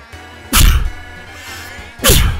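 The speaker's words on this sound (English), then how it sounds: "Not a bad time to sneeze." Two sharp, loud sneezes burst out about a second and a half apart, each a sudden explosive blast close to the microphone against a quiet room background.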